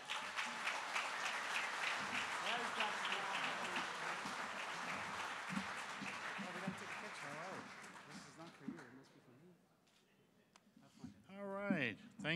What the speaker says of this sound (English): Ladies and gentlemen, a warm round of applause for Dennis Hall.